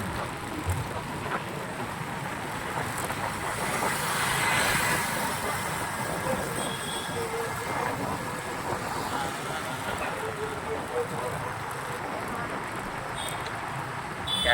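A car driving along a road in Nalasopara, heard from inside as a low, steady rumble of engine and road noise at moderate level, with a slight swell midway.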